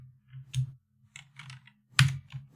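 Quick bursts of typing on a computer keyboard, several clusters of close, crisp key clicks separated by brief silences, with no voices.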